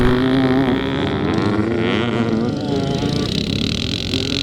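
A four-stroke Honda motocross bike with a big megaphone exhaust passes at a classic motocross race in Penrith, its loud rising and falling engine drone close by, with commentary over it.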